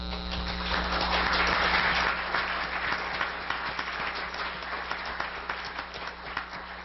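An audience in a packed conference room bursts into cheering and applause, loudest in the first couple of seconds, then settles into steady clapping that continues throughout with scattered individual claps.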